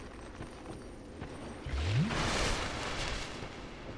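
An enemy in Dark Souls 2 blows itself up in a muffled, rumbling explosion. It arrives midway as a sudden low boom with a brief rising whoosh, then a broad rushing roar that fades slowly, with no voices.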